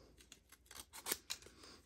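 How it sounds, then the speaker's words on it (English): Scissors snip through paper while tracing a cutting line for an Easter treat basket craft, a string of close, quiet crisp snips with no talking. "use the center part of your scissors"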